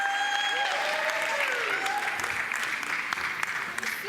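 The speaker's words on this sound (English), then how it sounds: "Would you give her a big round of applause?" Audience applause welcoming speaker Kim Ward to the stage at a ProbateBiz Masters main event, steady sustained clapping throughout with a few shouted voices and cheers over it.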